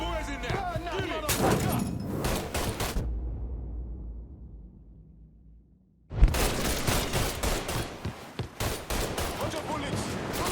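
Bursts of gunfire in the video game Mafia III during a bank job shootout, rapid loud volleys in two stretches separated by a fading lull, with crackling impacts between shots.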